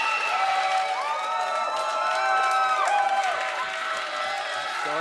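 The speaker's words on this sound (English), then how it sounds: "The crowd is going crazy." A live audience at a chess event in Paris cheers, whoops and applauds in a sustained roar, with tonal sweeps and voices mixed in over the steady crowd noise.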